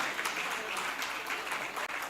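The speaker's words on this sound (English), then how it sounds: "Please put your hands together, put your hands together, put your hands together." Audience applause at an investment summit for a speaker invited to the stage, moderately loud and continuous, with a voice faintly mixed in underneath.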